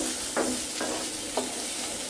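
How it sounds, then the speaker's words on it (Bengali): Shrimp sizzle in a hot pan with a pinch of turmeric, with a steady crackling fry and three distinct scraping stirs, close and alone. "চিংড়িগুলো দিয়ে দিচ্ছি 1 চিমটি চামচ হলুদের গুঁড়ো। এখন নেড়ে ছেড়ে নিচ্ছি।"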